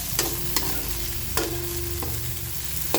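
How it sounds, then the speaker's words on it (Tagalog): Pork and ginger sautéing in a pan for laing, a steady close sizzle with a few sharp clinks of a utensil stirring against the pan at irregular intervals. "So ito, nagigisa na po tayo."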